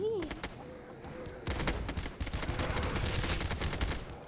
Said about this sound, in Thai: ยิงสาดรีโหลดกระสุนอีกแล้วโอ้โหยิงแป๊บเดียวหมดพี่น้อง